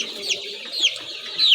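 A chick sick with Newcastle disease gives a few short, high, close peeping clucks while being handled, with quiet rustling between calls.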